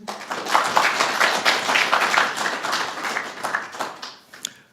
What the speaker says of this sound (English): a round of applause for the work UPF does